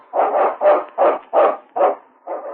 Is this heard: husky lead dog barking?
yes